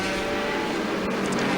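LMP2 prototype race car number 36 at Spa-Francorchamps in a 1000 km endurance race, a loud sustained engine roar right at the microphone as it passes, without voices.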